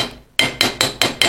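Six sharp, evenly spaced metallic taps from a small hammer chipping slag coating off a weld ring out close by, a quick steady rhythm of chipping blows.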